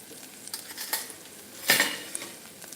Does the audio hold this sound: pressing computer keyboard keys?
no